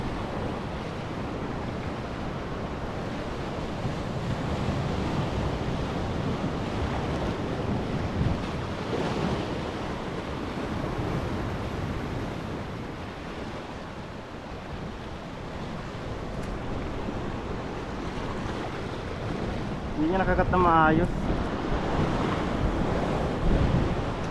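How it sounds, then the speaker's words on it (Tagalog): Big ocean waves roll and break near an island in steady, roaring surf, with wind buffeting the microphone throughout and a brief voice near the end. "lalaki ng alon"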